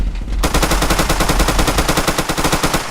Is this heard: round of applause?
no